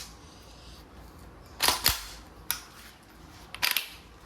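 A CO2-powered SBR airgun rifle fires full auto with ball pellets, giving sharp snapping cracks in a couple of quick clusters over quiet background hiss.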